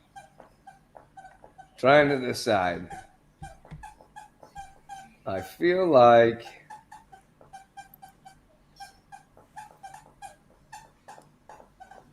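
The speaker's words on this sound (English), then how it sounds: "What's that squeaking? that is my dog." A pet dog gives repeated high, thin squeaks and whimpers in a quiet room, soft and intermittent, with two bursts of nearby talk breaking in.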